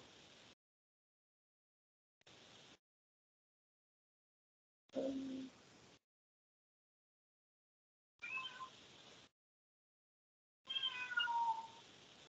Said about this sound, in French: Je ne sais pas si vous écoutez le chat.